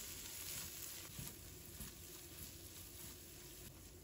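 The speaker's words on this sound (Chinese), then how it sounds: "翻炒均匀，" Garlic and red chili stir-fry in a wok with a soft, continuous sizzle and faint scraping strokes, quiet and alone with no talking.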